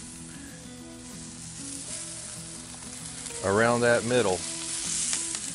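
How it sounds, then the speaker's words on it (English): Broccoli and white onions sizzle loudly in a Lodge cast iron pan, a dense steady frying hiss that carries on under a short stretch of spoken words. "going in broccoli and our white onions. And keep this moving"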